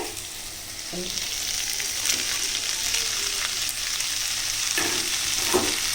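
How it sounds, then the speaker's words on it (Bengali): Banana flower (mocha) being stirred in a hot pan, a continuous oily sizzle with a few soft scraping knocks of the spoon against the pan scattered through. "মোচাটা দিয়ে ভালোভাবে কিন্তু মেশাতে হবে খুব সুন্দর করে আলতো হাতে এটা মেশাতে হবে"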